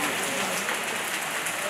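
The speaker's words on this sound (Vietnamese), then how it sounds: "mọi người có thể nghe được tiếng mưa đấy" Steady rain falling outdoors during a film shoot, a dense even hiss of drops on surfaces filling the short stretch without pause.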